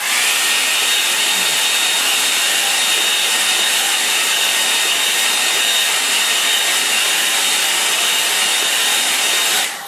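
A hair dryer blows steadily to dry a watercolour pen-and-wash painting, making a loud, close, unbroken whooshing roar that runs the whole time and cuts off at the very end.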